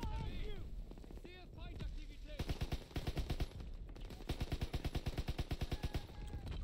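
Gunfire from a weapon in Call of Duty: WWII during the D-Day landing: after some scattered shots and battlefield noise, long rapid automatic bursts ring out close and loud, with voices shouting in between.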